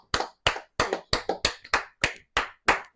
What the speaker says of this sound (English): But give him a round of applause.